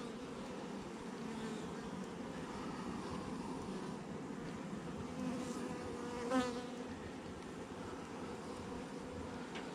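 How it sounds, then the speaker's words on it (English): Honey bees drone steadily around an opened hive frame packed with nectar and pollen, a continuous close buzz with one brief louder bee passing near the end. "Look at how calm these bees are."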